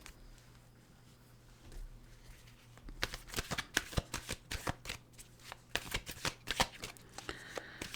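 A deck of cards being shuffled for a card reading: quiet handling at first, then a run of crisp riffling bursts and flicks close by, with no talking.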